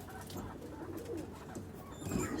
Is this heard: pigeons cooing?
yes